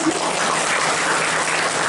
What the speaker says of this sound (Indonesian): Tepuk tangan untuk guru-guru